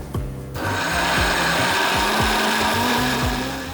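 Cardamom seeds and unniyappam batter ingredients being ground in a kitchen mixer: a steady, loud motor whir runs throughout with rhythmic low churning pulses, close and continuous with no talk.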